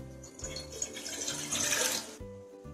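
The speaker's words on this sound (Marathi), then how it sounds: "आता गॅस ऑन करून पॅन मध्ये 3 कप पाणी घालू" Water poured from a vessel into a pan on a gas stove for cooking a sweet dish, a steady, fairly soft splashing stream lasting about two seconds before stopping.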